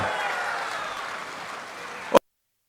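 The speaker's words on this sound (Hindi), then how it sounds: "श्री विजय कुमार दुबे के लिए जोर से ताली बजाओ जरा।" Crowd applause at a large political rally in Kushinagar, Uttar Pradesh, a steady broad wash of clapping that holds evenly, then cuts off abruptly after a brief loud burst.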